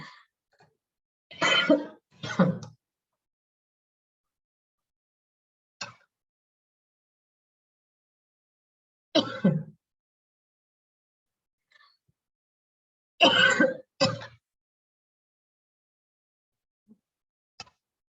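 A handful of harsh coughs come in short pairs, spread out with quiet gaps between them, close to the microphone, and nobody speaks.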